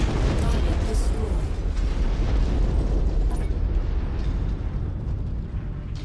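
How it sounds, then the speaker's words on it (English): Cannon fire in the MechWarrior 5: Mercenaries game sounds as a heavy, rumbling boom with a long low-frequency roll, loud at first and slowly fading, with a brief sharper crack partway through. "I just heard a cannon go off."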